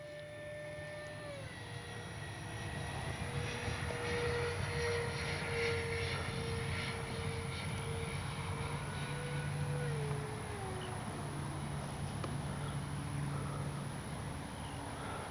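An E-flite Airbus A320 Neo RC jet performs a touch-and-go, its electric ducted fan whine rising and holding steady at moderate distance, with shifting tonal pitches as throttle changes.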